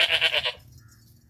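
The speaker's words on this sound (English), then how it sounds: "of course, regular goat videos." A farm goat bleats once in a loud, wavering cry lasting about half a second, then cuts off into near silence with faint low background noise.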